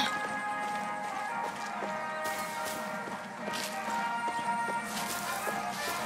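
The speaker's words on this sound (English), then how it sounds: "Horse." Horse hooves clip-clop at a steady trotting rhythm in the video game Far Cry 6, moderately loud and close, layered over sustained game music and ambient noise.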